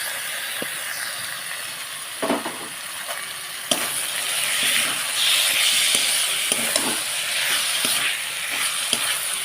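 Marinated boneless chicken breast pieces going into a pan of spiced masala that has been fried down, a steady close sizzling hiss with a few clatters and knocks as the pieces drop in, no talking.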